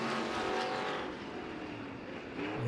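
Vintage and stock cars start a race at an off-road dirt speedway, a dense loud roar of many engines revving together with rising and falling pitch as the pack accelerates away.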